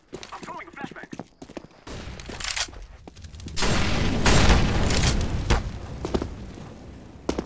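A flashbang grenade is thrown and bursts in the shooter game Counter-Strike: Global Offensive, a loud sustained blast following a stretch of gunfire and thuds, with a player talking over the action.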